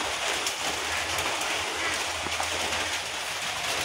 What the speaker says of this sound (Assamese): বৰষুণ চাই আছোঁ